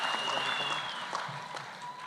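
Audience applause at a public gathering honouring a parliamentary health committee vice chairman, a steady dense wash of many hands clapping at once, fairly loud and continuous throughout, with no clear voices on top.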